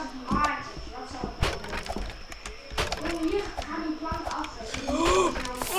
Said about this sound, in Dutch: ik was doodgaan omdat die plank kapot was